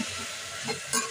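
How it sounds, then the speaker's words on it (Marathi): Pav bhaji mixture sautéed in oil in a pan, a steady close sizzle with brief scraping stirs over about a second. "छानपैकी परतून घ्यायचंय त्याला तेलात।"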